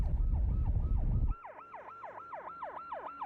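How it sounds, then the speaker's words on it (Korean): After a burst of loud engine rumble, a siren sweeps up and down in a fast repeating wail, clear and close with little else around it. "소방차가 가까이 올수록 소리는 커지고 높게 들립니다."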